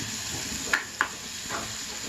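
Mango ginger pickle sizzling in a hot tempering while cooking with chicken, a steady hiss with a couple of brief stir clicks, no voices.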